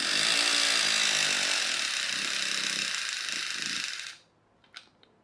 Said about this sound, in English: once it's going, the flywheel effect keeps the motor running.